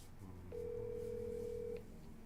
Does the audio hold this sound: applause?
no